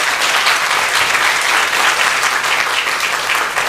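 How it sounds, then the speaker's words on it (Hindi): A church congregation applauds during a Hindi sermon, a dense, loud burst of many hands clapping that holds steady for a few seconds with no speech over it. "इस पर तो एक तालियां मेरे लिए नहीं,"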